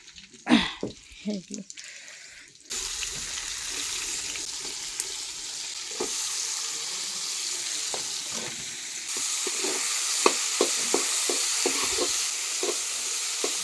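Onion and garlic frying in a pan for a village-style meat curry: a steady, close sizzle with stirring scrapes and clinks, preceded by brief voices at the start.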